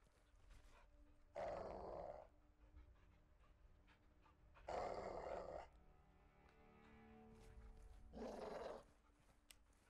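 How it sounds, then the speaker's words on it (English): A caged dog in the Call of Duty Modern Warfare 2 video game growls and pants in three loud, rough bursts spaced a few seconds apart, with quieter breathing between them and no talk. "Do you see the caged dog?"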